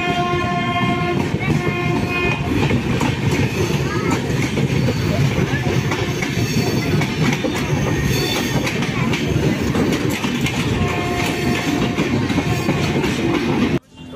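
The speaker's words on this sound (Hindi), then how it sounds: "और ट्रेन खुल चुकी है, चलिए।" A passenger train running on rails between Muzaffarpur and Samastipur gives a loud, continuous rumble and clatter with tonal squeals, heard close up from on board.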